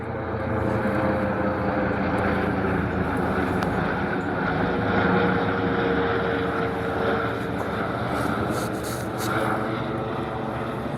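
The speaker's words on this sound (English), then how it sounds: "Helicopter is going up in the sky." A helicopter drones overhead with a steady rotor and engine hum, loud and continuous, swelling slightly midway.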